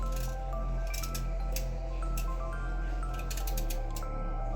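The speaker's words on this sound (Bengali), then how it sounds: "এবার আমি কাঁকরোলের খোলাগুলো ছাড়িয়ে নিচ্ছি" Skin is pared off a kakrol (spiny gourd) with soft, quiet scraping and squishing cuts, each stroke set apart from the next, close by and with no talk.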